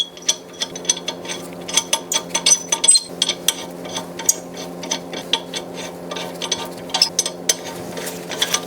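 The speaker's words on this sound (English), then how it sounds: "You're going to want to install a couple lug nuts on to protect the threads" Lug nuts being run onto the wheel hub of a 2005-2010 Chrysler 300 with a ratchet, rapid clicking pawl bursts repeating in short strokes, loud and close with no speech.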